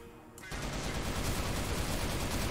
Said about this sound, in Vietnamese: Cầm cái súng bắn cho vui.